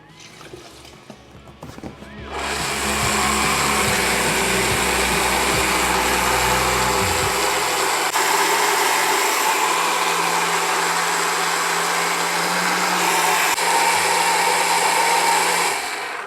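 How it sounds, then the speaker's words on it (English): An immersion blender purees a batch of homemade sriracha hot sauce, starting after a couple of seconds of handling noise and then whirring loudly and steadily at close range, with a deeper motor tone shifting partway through. "we're done with the Immersion Blender"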